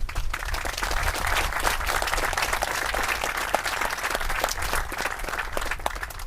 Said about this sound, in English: Please, a round of applause for the families.